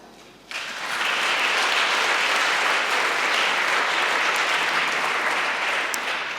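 A crowd at the European Youth Charlemagne Prize ceremony in Aachen breaks into loud, sustained applause that starts abruptly after a quiet moment and carries on evenly throughout.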